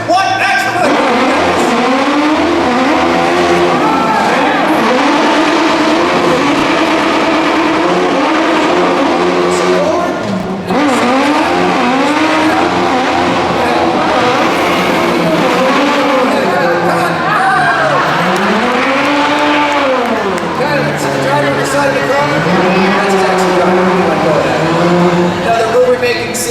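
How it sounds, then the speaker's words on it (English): Remote-controlled stunt car at a live stunt show speeding and skidding, engine whine rising and falling with tire squeals over a large outdoor crowd, loud and continuous under announcer talk. "this time, Kylie, that car's going to go a lot faster."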